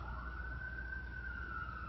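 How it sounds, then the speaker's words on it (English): A fire engine siren wails in the distance, a single sustained tone slowly rising and falling, faint against low background rumble. "Hear that siren?"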